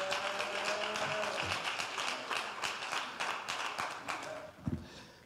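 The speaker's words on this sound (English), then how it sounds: "Clap your hands like you believe God's going to speak to you." A church congregation claps hands together at a revival service, a dense, steady patter of many palms filling the room, with a few murmured voices underneath and a louder thump near the end.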